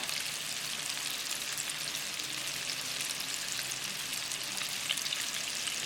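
Chilli fish pieces deep frying in a small home fryer, a steady dense sizzle and crackle of hot oil holding at an even, close level throughout with no talking.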